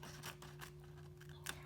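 Scissors snip through paper along a drawn line, a few soft, close crisp cuts spaced irregularly over a faint low electrical hum.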